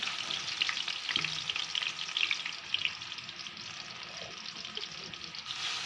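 Marinated chicken pieces fry in hot oil in a kadai, giving a loud continuous close sizzle with occasional stirring scrapes and bubbling, with no talk.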